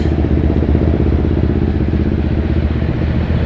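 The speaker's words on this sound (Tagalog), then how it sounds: "Siksika ng mga motor." Dense engine drone of many motorcycles packed together in heavy weekday city traffic on Commonwealth Avenue, Quezon City, steady and loud throughout with overlapping idling and revving motors, heard near and continuous.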